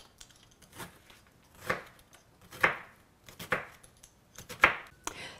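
A kitchen knife chops downward through vegetables on a cutting board with about six distinct, close thuds at an irregular pace, and no one speaks.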